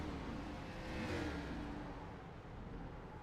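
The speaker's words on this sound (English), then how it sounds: "It sounds like the car's off coasting" Race car coasting toward pit road with its engine off during a Scrambler Series dirt race in Texas, a steady mid-level whir and rolling road noise, swelling slightly as it passes close, with no talk.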